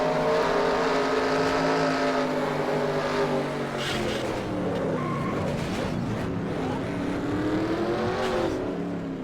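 From onboard a Turbo Cup Series race car at Phoenix, the engine screams loud and close, its pitch rising and falling as the car lifts, shifts and accelerates through a crash scene.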